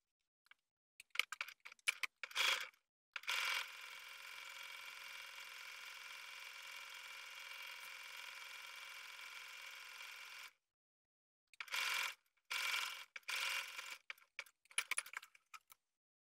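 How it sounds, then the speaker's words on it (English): A sewing machine edge stitching a folded sleeve hem: a few quick stuttering bursts, then a long steady whirring run of about seven seconds, a short pause, and more short clattering runs, close and clear. "now I'm going to edge stitch that down to finish off the sleeve hem"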